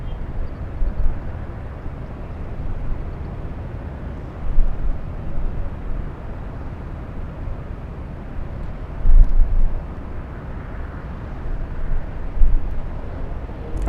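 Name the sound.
Polish airliner on LAX runway, bound for Warsaw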